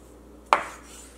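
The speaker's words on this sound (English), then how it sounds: "we're gonna go ahead and cut the chuck now" A knife cuts through beef chuck in a single sharp stroke, a brief near crack that fades quickly into a quiet kitchen.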